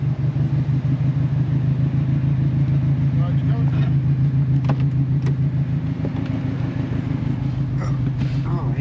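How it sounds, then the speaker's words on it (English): A car fitted with a loud aftermarket 'fart cannon' exhaust gives a deep, steady, droning rumble that stays close and loud for the whole stretch, without clear rev spikes. "I guess we're about to hear what a fart cannon's gonna sound like"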